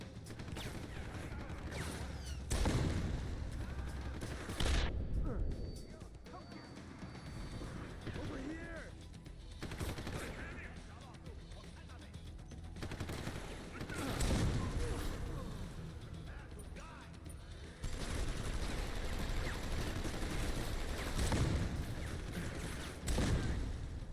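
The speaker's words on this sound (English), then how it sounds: "They're shooting, so they're getting bullets too." Gang members exchange gunfire in a Deus Ex: Human Revolution firefight, with sharp shots and crashing impacts bursting irregularly across a dense, loud game soundscape while someone talks over much of it.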